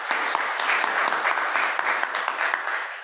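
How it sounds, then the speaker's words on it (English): Summit audience in Durham, North Carolina breaks into sustained applause, a dense, even roar of many hands clapping at steady volume that tapers slightly near the end. "So I also want to give a huge round of applause to them as well."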